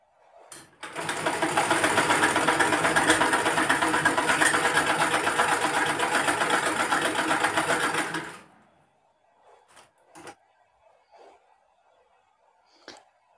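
A sewing machine stitching lace onto a doll's lehenga, a loud close continuous rapid whirring run of about seven seconds, then stopping, followed by faint handling clicks and quiet shuffling.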